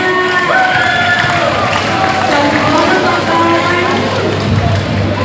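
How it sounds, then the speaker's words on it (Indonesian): A school audience at a talk show event claps and cheers loudly, with shouts and whoops rising over a dense crowd roar while voices call out above it. "tepuk tangan dulu dong guys"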